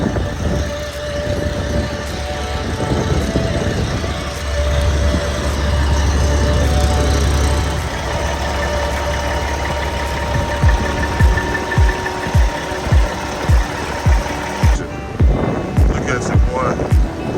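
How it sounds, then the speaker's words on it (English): A semi truck's diesel engine idles at a Dallas, Texas trucking stop, a steady low rumble and vibration running throughout, swelling in the middle, then turning into a rhythmic knocking pulse near the end. "they got my truck idling"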